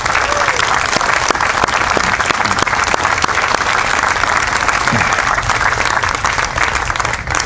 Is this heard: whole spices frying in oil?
no